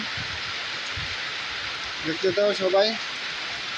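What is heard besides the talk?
heavy rain storm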